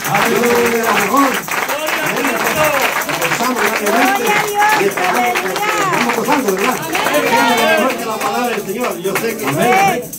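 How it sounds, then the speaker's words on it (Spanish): Church congregation clapping in a continuous burst of applause with shouts and voices mixed in, loud and sustained throughout. "Denle aplauso a nuestro Dios, hermano"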